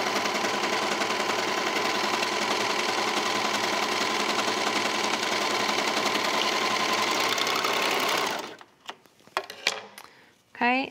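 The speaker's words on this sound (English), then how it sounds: "fold it with right sides together and sew the short end of the cuff" A sewing machine runs loud and continuous while stitching the short end of a fabric cuff for pajama pants, then stops abruptly, followed by a few faint handling clicks and a brief sound at the end.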